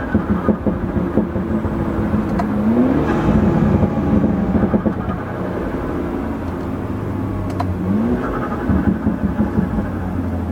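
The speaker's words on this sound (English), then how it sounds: "Here, we'll do some downshifting up here." A BMW with a Bootmod3 transmission tune downshifts on the road, its engine note rising in quick rev blips around the three- and eight-second marks over a steady, loud in-cabin drone.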